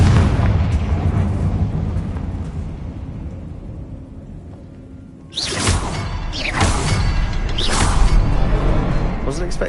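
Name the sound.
Confringo blasting curse explosion from a wizarding video game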